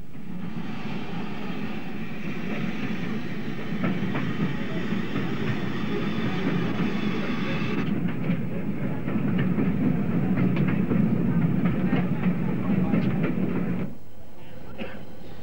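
A train on the Bluebell Railway in 1988 rumbles steadily along the tracks with a continuous low roar and faint rhythmic clatter, fairly loud, easing off near the end.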